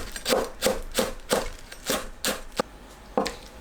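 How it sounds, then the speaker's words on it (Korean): A knife chops green onion on a cutting board for Korean tofu potato soup, giving about eight crisp, evenly spaced thuds close by, with no talking. "파를 썰어주세요."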